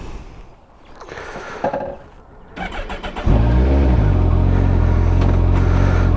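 A Kawasaki GTR 1400 motorcycle is started by push button after some quiet handling sounds, its engine cranking and then catching into a loud, steady close idle that rumbles on to the end.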